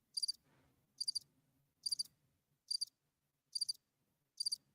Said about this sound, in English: Did my crickets come through?